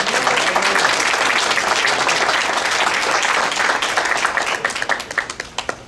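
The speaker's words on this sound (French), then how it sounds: "Qu'on applaudit." An audience at a cabaret show breaks into loud, dense applause that holds strong, then thins into scattered individual claps as it dies away.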